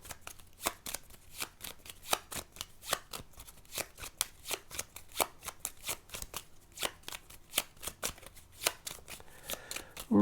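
Cards from the Tapestry board game are shuffled in a long, steady run of sharp riffling snaps at an even rhythm, close and clear, with no talking.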